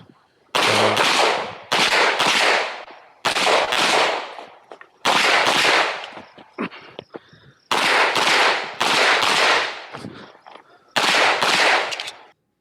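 Bursts of pistol fire at a USPSA match stage at Oak Hill Gun Club, loud rapid strings of shots in several separate volleys with brief pauses between as the shooter moves.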